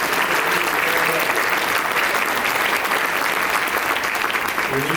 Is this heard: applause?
yes